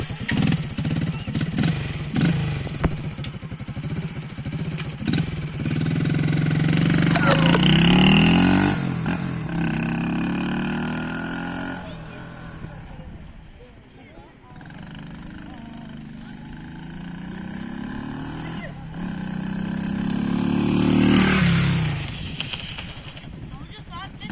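A small motorized vehicle built for disabled riders, shown in a sidecar model at a workshop in Batman, runs on a short test drive, its engine revving up and easing off over about 24 seconds with a steady, fairly loud drone.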